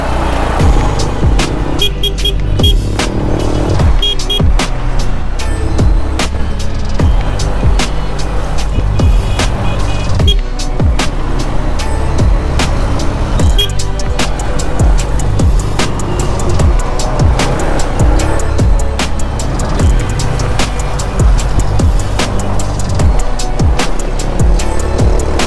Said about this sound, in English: So, lots of traffic. I have the motorcycle.